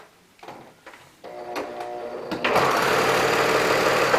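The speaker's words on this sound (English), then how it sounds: "I'm all paranoid because it's a new to me serger" A secondhand serger overlocker starts with a few short taps and clicks, then runs in a steady, loud whir that continues to the end.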